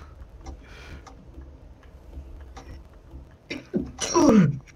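A single sharp sneeze bursts out near the end, close and loud, after a stretch of quiet room sound with faint ticking and brief voice fragments.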